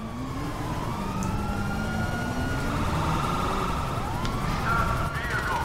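A police car siren from the GTA V video game wails and sweeps up and down continuously through dense in-game traffic and engine noise, steady and fairly loud throughout.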